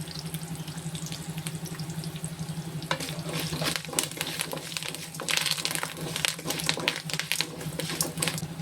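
Dried red chillies, curry leaves and a pinch of asafoetida frying in hot oil for coconut rice, giving a steady close sizzle with crackling pops that grow busier partway through.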